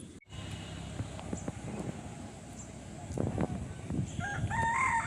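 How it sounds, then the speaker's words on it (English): A village rooster crows at a distance on a calm morning among crops and fields, a faint call rising over soft breeze noise, with a brief clucking burst near the end. "Now the rooster also wishing me good morning in his language"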